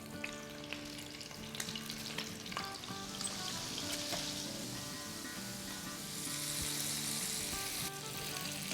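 Mini seekh kebabs fry in a hot pan with a constant crackling sizzle, close and fairly quiet, swelling slightly toward the end.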